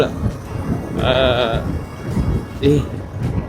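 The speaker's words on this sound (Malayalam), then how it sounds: "ഇവിടെ ആടാണോ ഇവിടെ പശുവല്ലേ നല്ല ആടല്ലേ" Sheep bleat beside a highway in Punjab: two loud, wavering calls close by, over steady road and wind noise, with people talking nearby.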